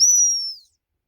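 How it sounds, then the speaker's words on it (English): A single gundog training whistle note for a springer spaniel, sharp and high, held steady for about half a second and then cut off, followed by silence. "blow the whistle"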